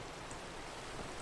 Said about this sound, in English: we are going to wait out this rain